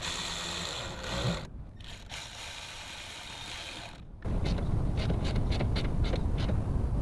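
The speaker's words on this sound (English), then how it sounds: "I'm gonna tighten up these clamps with my Milwaukee." A Milwaukee power tool tightens intake hose clamps on a Toyota FZJ-80 Land Cruiser engine: a steady whirring runs, cuts off briefly, then resumes louder, with rapid ratcheting clicks near the end.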